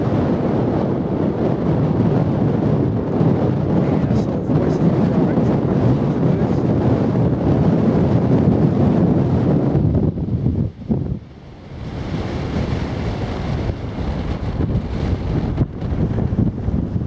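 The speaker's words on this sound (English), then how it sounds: "Very windy, mind. I hope it's not getting through the windbreaker." Strong wind on a countryside walk near Lewes, England, roars and buffets the microphone in a constant loud rumble, easing briefly before gusting back in.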